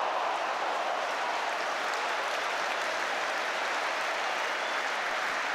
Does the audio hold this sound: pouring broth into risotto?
no